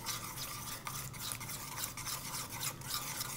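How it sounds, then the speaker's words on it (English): A Thai ginger, chili and lemongrass dressing with rice vinegar is stirred in a bowl, making a faint, steady wet scraping and swishing that continues throughout. "Stir it up."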